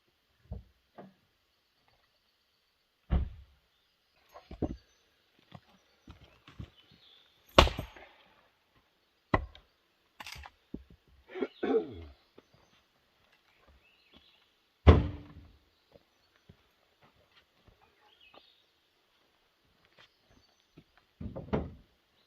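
An axe splits grand fir firewood outdoors in a series of sharp, isolated chops and woody cracks, spaced irregularly with quiet gaps between strikes and occasional lighter knocks of wood.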